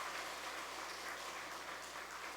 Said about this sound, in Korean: 좋은 딸 허락하신 하나님께 영광의 박수 한번 하겠습니다.